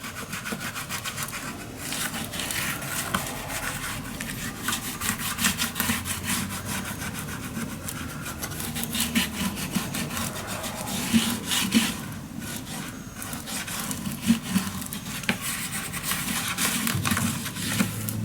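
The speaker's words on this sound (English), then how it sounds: "burnish that glue down." Glued paper is burnished down onto a Stamperia Music Romance craft mini album with continuous rubbing and scraping strokes that stay close and steady for the whole stretch, with no talk.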